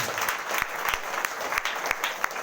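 Loud applause rises from the congregation at a Sunday prayer service, a dense, steady crowd clapping that carries on throughout with some sharper claps standing out.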